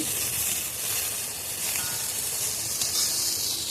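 Fish fries in a pan with a steady, close sizzling hiss that holds evenly throughout, with no talking over it.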